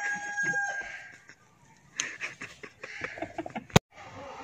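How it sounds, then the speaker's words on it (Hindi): Neighbours' chickens in a village cluck and crow with scattered calls and one sharp squawk, mixed with people talking nearby. "आंढ़ गुआंढ़ दी मुर्गियां देख।"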